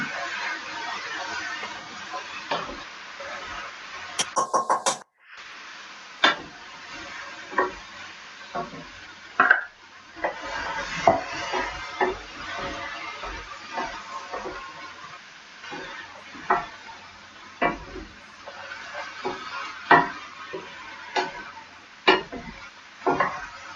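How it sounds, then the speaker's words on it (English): Beef, passata and black beans being stirred in a skillet: a steady close-up sizzle broken by repeated scraping strokes of the spoon, with a brief clatter early on. "And stir that around."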